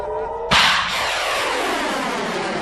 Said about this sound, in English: All it does is send up rockets that explode in the air and don't actually intercept anything.